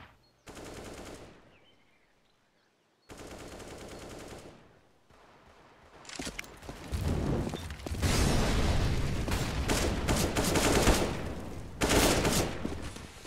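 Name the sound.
pistol gunfire in Counter-Strike video game, Inferno map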